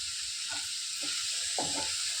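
Prawns with chilli and curry leaves frying in a pan, a steady close sizzle with bursts of stirring and crackle.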